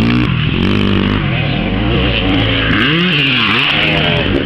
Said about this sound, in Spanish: Va patinando, sí, va patinando la moto.